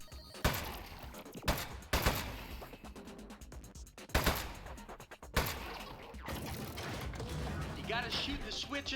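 Gunfire in a video game, rapid mechanical bursts and clattering shots in several loud volleys between brief gaps, mixed with game sound effects.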